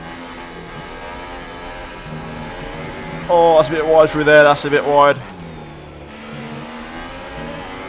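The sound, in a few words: F1 race car engine revving in the video game F1 2018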